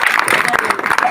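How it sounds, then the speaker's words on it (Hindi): A street crowd watching a snake-charming magic show claps in a brief, steady burst, with a performer's voice talking over it. "एक दफे ताली बजाओ"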